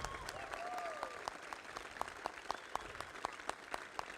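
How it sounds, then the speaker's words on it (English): Audience applause at the Australian Rover Challenge, a university rover competition: a fairly faint, scattered patter of clapping with sharper individual claps toward the end, plus distant whistle-like tones from the crowd. "we should have a really big round of applause for the efforts of those three"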